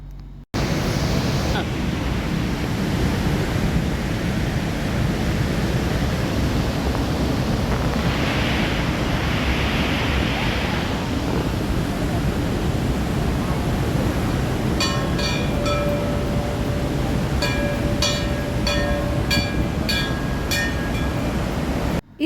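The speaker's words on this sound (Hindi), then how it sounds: "यहाँ गांव के आखिरी छोर पर चट्टानों के बीच से एक झरना गिरता हुआ दिखाई देता है।" A waterfall pours between rocks at the far edge of Mana village in the Himalayas near the Alakananda river, a steady loud rushing roar throughout, with faint brief tones and clicks appearing late.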